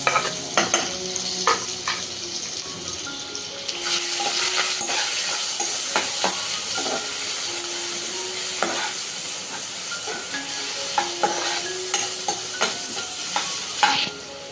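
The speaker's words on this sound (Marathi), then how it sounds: "आता इथे तेल तापलंय, त्यामध्ये आपण कांदा, टोमॅटो आणि कढीपत्ता घालणार आहोत" Onion, tomato and curry leaves sizzle in hot oil in a pan, with a loud, steady frying hiss close by. Scraping stirs and light clinks of a spatula against the pan keep breaking through, and no one speaks.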